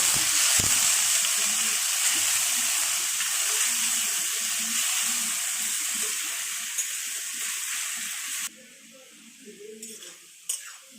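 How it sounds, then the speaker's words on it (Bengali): Chopped potato and onion fry in a kadai for darka machar jhal, a steady loud sizzle running throughout with occasional stirring clinks, quieting abruptly near the end to softer crackles. "আলু কুচোনাটা দিয়ে দিচ্ছি আর পেঁয়াজ কুচোনাটা দিয়ে দিচ্ছি। এটা ভালো করে লাল করে নিতে হবে।"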